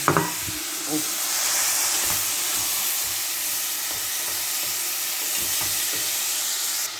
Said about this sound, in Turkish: Patlıcan kavrulsun.